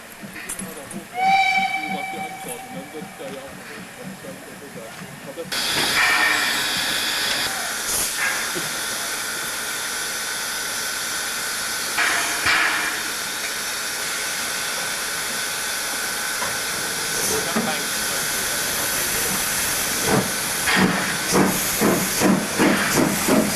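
Harz narrow-gauge steam locomotives on the Brocken and Selketalbahn lines let out loud, sustained steam hissing with a brief whistle early on, followed by rhythmic chuffing and rail noise near the end.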